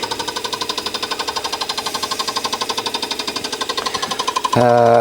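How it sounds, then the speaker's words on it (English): A fly cutter machining on a mini lathe: rapid, evenly spaced metallic cutting hits in a steady rhythm, loud and close, ending abruptly in a brief tonal machine whine. "So new flight cutter can come into play. Let's just touch in, let's just come off the edge."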